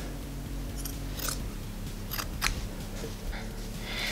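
Scissors trimming uneven spots on sweatshirt fabric, several short close snips scattered over a low steady background hum.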